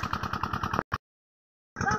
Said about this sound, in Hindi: अब इंजन हमारा चल रहा है, हाँ पानी हमारा निकलने लगा है